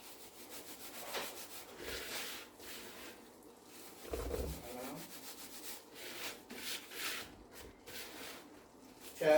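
Flour, icing sugar and ground almond being stirred together in a bowl, a steady scraping and rubbing texture in repeated strokes with brief pauses, close and moderately quiet.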